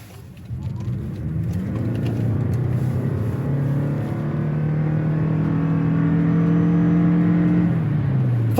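The base engine of a 2023 Toyota Crown Limited drones and rises in pitch as it accelerates steadily, loud and close, then eases off at the end.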